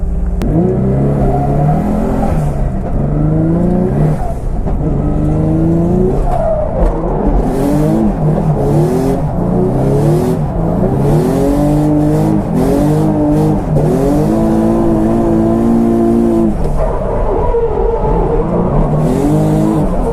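Race car lapping the Buxton circuit in a practice run during a BDC Pro Am drift round, its engine revving hard and continuously, pitch rising and falling through gear changes, with tyre squeal, loud and close throughout.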